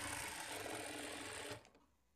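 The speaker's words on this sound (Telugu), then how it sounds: "ఈ మార్కింగ్ దగ్గరికి క్రాస్‌గా ఒక స్టిచ్ వేసుకోవాలి" A sewing machine runs steadily as it stitches the front dots of a blouse, a close, busy whirring hum that cuts off abruptly after about a second and a half.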